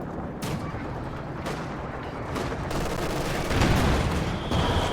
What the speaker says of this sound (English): Rear shot from the T-34. A return shot.